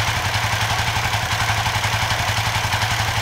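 A Suzuki motorcycle engine runs steadily at a normal idle, close and loud, with an even low throb and mechanical clatter throughout and no speech.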